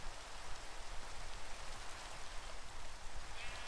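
Rain falls steadily in Minecraft, a constant hiss of drops spread evenly across the whole moment with no pauses and no voices.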